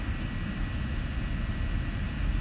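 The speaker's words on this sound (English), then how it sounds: "I can hear the drone." A drone flies overhead in Hong Kong, its motors making a steady, fairly loud droning hum that holds without a break, with no talking.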